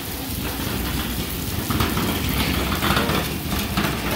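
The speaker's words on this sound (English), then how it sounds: "know you're in Florida when it rains like this every day." Heavy Florida rain pours steadily in a dense, unbroken hiss, loud and close, with a low rumble underneath.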